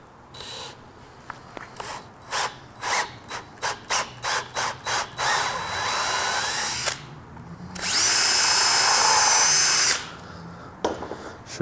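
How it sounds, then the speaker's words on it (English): A power drill bores through wood with scrap backing underneath, giving a series of short bursts of whirring and ratcheting followed by two longer continuous runs, close and loud. "when drilling through your finished piece of work, you reuse your scrap here"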